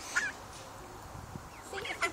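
Waterfowl call near a pond where ducklings are being fed, giving a few short honking quacks at the start and end, fairly faint, with quiet background between them.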